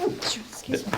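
A single short sneeze bursts out during a lecture, close and fairly sharp, followed by brief voice sounds.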